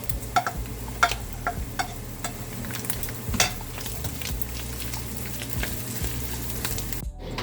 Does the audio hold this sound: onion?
yes